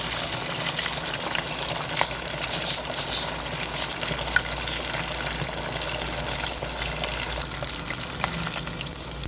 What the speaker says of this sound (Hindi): अब इनको हम टिक्कों को एक एक करके डीप फ्राई कर लेंगे 1 से 2 मिनट के लिए।